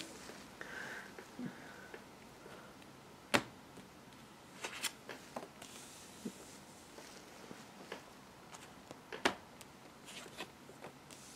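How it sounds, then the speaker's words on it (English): Tarot cards shuffled by hand in irregular soft riffles and flicks, with a few sharper snaps, close but very quiet, no talk. "I keep getting this card"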